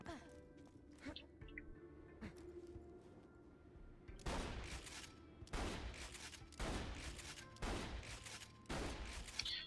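A bandit shotgun in Borderlands 2 fires in-game. A fairly quiet stretch with faint background sounds gives way to five loud, sharp blasts spaced roughly a second apart.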